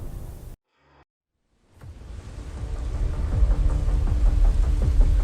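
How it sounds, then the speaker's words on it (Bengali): Heavy storm sound effect: a short burst, a moment of silence, then rain builds to a steady loud downpour with low rumbling thunder rolling underneath. "বাইরে তখন প্রবল ঝড় আর বৃষ্টি হচ্ছে।"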